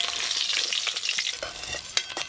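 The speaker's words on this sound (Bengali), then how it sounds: "আর মাছ তো ভাজতে একটু সময় লাগে।" Pieces of a large aar fish frying in a pan of oil, giving a loud, dense, continuous close sizzle with a few crackles and no voices.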